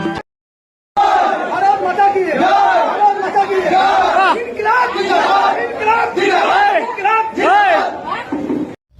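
A crowd at a friend's wedding procession chants political-style slogans in loud, rhythmic bursts of many voices, with shouting and chatter continuing for about eight seconds after a short silent start.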